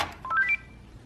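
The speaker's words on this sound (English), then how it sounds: "you press it, and as you can see, it rings, so you can find it" A Panasonic KX-PRS110 cordless phone handset gives a brief electronic ring after its page button is pressed, a short rising series of clear beeping tones, close and alone, fading into quiet.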